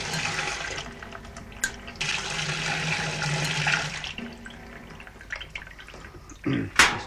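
Water gurgling and trickling out of a washing machine pressure switch setup as air pressure is released, with intermittent bubbling bursts and a louder splash near the end, amid a faint background hum.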